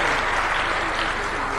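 Dense, continuous audience applause at an international e-learning conference debate, a loud steady wash of many hands clapping throughout.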